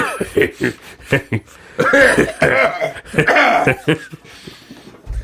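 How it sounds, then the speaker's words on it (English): Harsh, raspy smoker's coughing comes in repeated hacking bursts, close by, with a few throaty chuckles mixed in. "has a mean smoker's cough"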